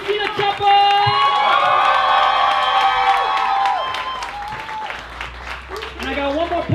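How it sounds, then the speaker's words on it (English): Live audience at a spoken-word poetry show bursts into loud, sustained applause with whoops and cheers, the clapping dense and close, thinning slightly toward the end as an excited voice rises over it. "Now make some noise for Ana Cristina Chapa!"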